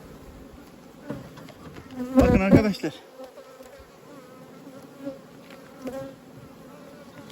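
A dense, steady buzz of honeybees at an open hive fills the clip, with a brief loud crackle near the hive and someone speaking briefly over the humming.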